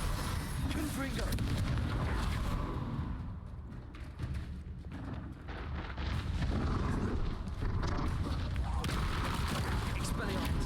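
Fiery Confringo spell blasts in the Hogwarts Legacy video game, a dense run of loud booming, crackling bursts that continue almost without pause across the whole stretch, with a brief dip in intensity midway.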